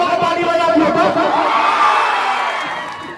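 A live stage-show audience cheers and shouts in a loud, dense crowd roar with whoops and laughter rising together, swelling briefly before gradually fading.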